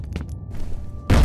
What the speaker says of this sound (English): Fire in the hole! Grenade out!